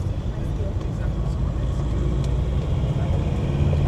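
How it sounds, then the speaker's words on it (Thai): Heavy ten-wheel trucks roll along a mountain road in Laos, a steady broadband engine and tyre rumble that swells slightly as they pass close by, with no voices over it. "เส้นนี้มีรถ 10 ล้อ ผ่านหลายเนาะ"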